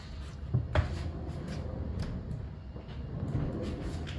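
A sliding barn door rolls along its overhead track, giving soft rumbling and several light knocks and clunks spread over a few seconds, close by and fairly quiet.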